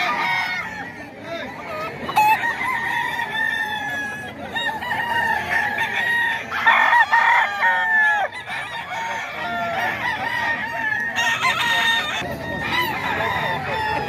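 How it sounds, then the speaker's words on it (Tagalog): Game fowl roosters crow and cluck at a poultry market in Bocaue, several birds overlapping nearby in a busy, continuous chorus with repeated crows rising above steady clucking and background chatter. "Manok pa ni Sir JC ito."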